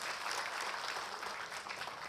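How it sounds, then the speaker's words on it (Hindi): An audience claps steadily for a civil servant at a speech event, dense and sustained applause filling the room without a break. "उनके लिए जरा ताली बजाना।"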